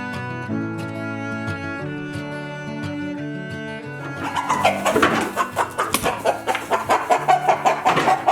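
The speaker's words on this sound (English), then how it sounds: "Got a rooster fight live on camera there." Rooster fight on a homestead with egg-laying chickens: a tonal musical stretch gives way to loud, busy squawking, flapping and repeated clucking bursts that fill the second half.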